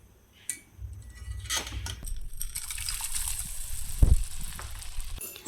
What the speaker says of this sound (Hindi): हमको जो खाने का गोंद है उसको डीप फ्राई करना है